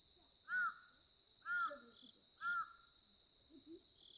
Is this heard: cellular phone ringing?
no